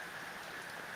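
Steady rain falls outside a shed on an overcast day, a soft continuous hiss of drops with no pauses and no voices.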